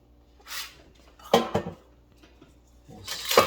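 Metal utensil scraping and clanking against an air fryer basket while stirring cube fries, a few short clattering bursts spaced across a quiet background.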